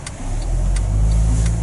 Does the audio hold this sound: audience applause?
no